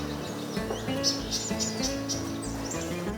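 Bulbul birds singing in shrubs, a run of short, bright chirps and whistled phrases repeating at a lively pace over a steady background hum of insects.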